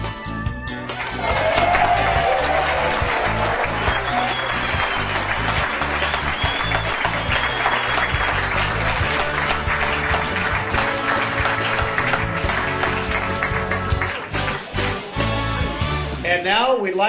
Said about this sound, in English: a big cheer when the ribbon is cut